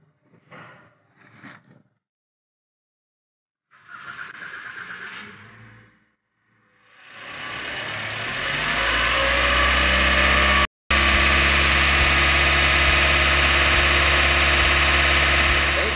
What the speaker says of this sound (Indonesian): kita akan menyalakan kendaraan terlebih dahulu